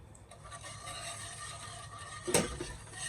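Batter for Vietnamese xu xe cake, mixed with cooking oil, is stirred in a bowl with a soft, faint swishing and one brief clink of utensil against the bowl near the end.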